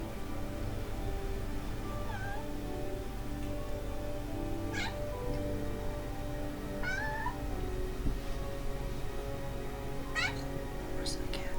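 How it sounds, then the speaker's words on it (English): A cat meows a few times in a quiet indoor space during a nighttime ghost hunt in Somerset County. The short, rising cries are spread across several seconds over a steady low hum, and a voice talks faintly. "Where's the cat?"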